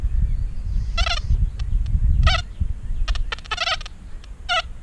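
A Deus metal detector gives warbling, gobbling tones during a slow sweep over a round ball at six inches, sounding in several scratchy bursts over a low background rumble.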